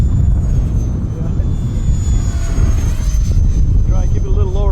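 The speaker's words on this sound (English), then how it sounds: "I don't know if you can see the plane kind of getting blown around." A lightweight FF Viper 50 model plane flies in gusty high wind, its engine a steady drone that wavers as gusts buffet it, with strong wind noise throughout and a person talking briefly near the end.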